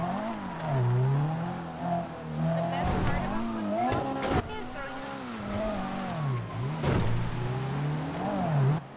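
Cars drive in the video game GTA V, their engines rising and falling as they rev and accelerate, with occasional tire squeals and sharp impacts, loud and close throughout.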